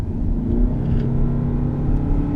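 A 2015 Lexus ES 300h hybrid with a CVT accelerating at full throttle, heard from inside as a steady, moderately loud engine drone and low rumble without gear shifts.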